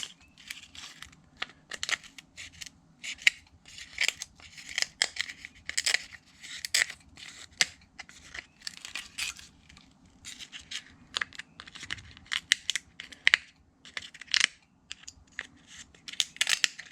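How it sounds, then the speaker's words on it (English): Shears trimming excess cured fiberglass off the flange of a wheel pant mold: a long run of quiet, crisp snipping and crunching cuts in an uneven rhythm, close up and with no talk. "all this up here needs to come off, so I go ahead and trim down pretty close"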